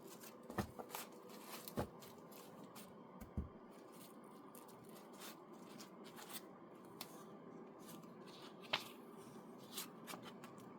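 Tarot cards shuffled by hand, a faint, close papery riffling with scattered soft snaps and taps from the deck at an uneven rhythm.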